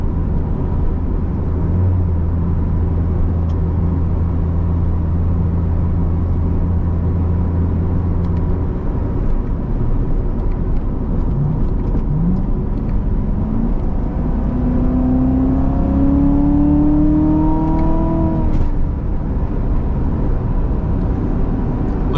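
A 700 horsepower Corvette track car drives at speed, its engine droning steadily with a low rumble, then rising and shifting pitch as it accelerates near the end, heard close from inside the cabin.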